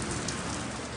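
Steady rain falls outdoors, a dense, even hiss of drops that stays loud and constant throughout the short moment.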